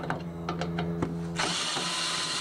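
A power drill backs screws out of a microwave oven's casing, first a string of rhythmic ratcheting clicks over a steady motor hum, then a continuous loud whirring spin close by.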